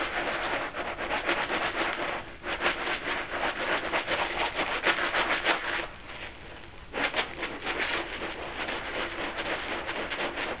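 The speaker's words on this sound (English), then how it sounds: "shake them around to make sure that all that sand is scoured out." Loose sand shaken and scoured around inside a handmade leather canteen, a steady gritty rushing rattle in close bursts with a short pause midway.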